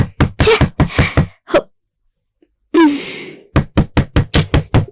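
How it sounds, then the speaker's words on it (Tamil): Loud knocking on a door in a Tamil TV serial: a rapid run of sharp raps, a pause broken by a brief vocal moan, then another quick burst of knocks. "நீங்க இப்படி கதவு தட்டுறீங்க?"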